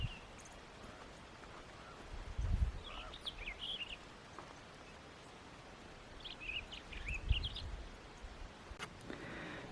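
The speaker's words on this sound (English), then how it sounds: "I hear the birds chirping." Birds chirp outdoors on a frozen morning in Utah, two short bursts of high twittering calls a few seconds apart, faint and somewhat distant, over soft background noise with occasional low thumps.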